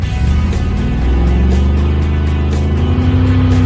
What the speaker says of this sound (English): We need to do a burnout